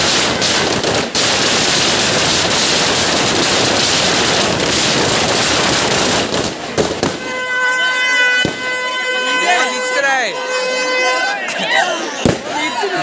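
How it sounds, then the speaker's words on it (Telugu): Loud crackling firecrackers burst in a long dense barrage at a village goddess festival, then give way to voices and a crowd with a couple of sharp isolated bangs. "ఇదైతే బాంబు చూడండి, ఇదైతే మొత్తం చెవుడిపోతాయి"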